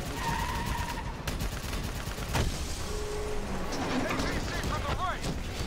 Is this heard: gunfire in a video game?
yes